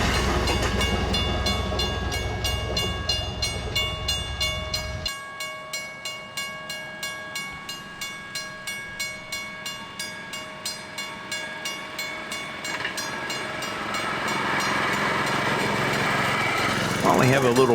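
Railroad speeders run along the Everett Railroad tracks, with a steady engine drone and a rhythmic clickety-clack over the rail joints. The engine rumble drops partway through, then swells again as the small track cars pass close by.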